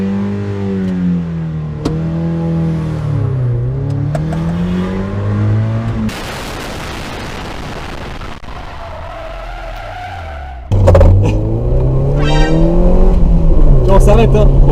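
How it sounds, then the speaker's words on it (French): A car skids through a handbrake U-turn: a revving engine drone gives way to a burst of rough tyre-scrub noise mid-turn, then the engine surges loudly again, with voices talking over it. "Demi-tour frein à main."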